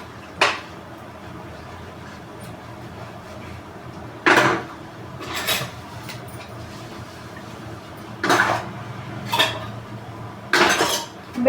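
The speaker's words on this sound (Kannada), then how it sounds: "ಬೆಳಗ್ಗೆ ತಿಂಡಿ, ಮಧ್ಯಾಹ್ನದ ಊಟದ್ದು ಪಾತ್ರೆ ಇದು, ರಾತ್ರಿ ಊಟದ್ದು ಅಲ್ಲೇ ತೊಳೆದಿಟ್ಬಿಡ್ತೀವಿ." Dishes, pots and utensils from the day's meals are washed at home, with sharp metallic clatters and clinks coming in several separate bursts over a quiet background.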